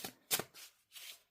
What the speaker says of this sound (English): We shall shuffle and see.